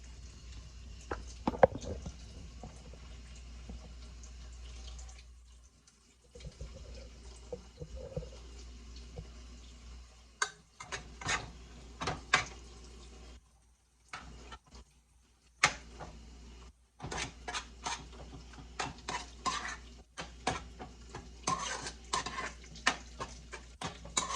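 Meat being stirred in a pan to brown it while making spaghetti sauce, with utensil scrapes and clinks over a low sizzle in repeated bursts separated by short pauses.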